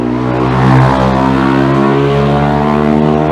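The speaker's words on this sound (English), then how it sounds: "Sorry about the noise of the motorbikes." Loud, steady engine roar with strong harmonic drone from motorbikes passing close by on a street in Southend-on-Sea, swelling slightly then holding; no voices.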